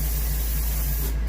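Steady close hiss of a spray gun laying a light flash coat of paint over a muskie fish mount, continuous and loud for about a second, with a low hum underneath.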